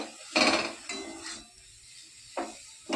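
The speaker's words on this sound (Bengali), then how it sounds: "আমি নাড়তে থাকবো যাতে নারকেলটা ভালোভাবে মিশে যায়" Fried grated coconut is stirred in a pan, giving a few separate scraping, clattering strokes of a spatula against metal with quiet gaps between them, close by and without speech.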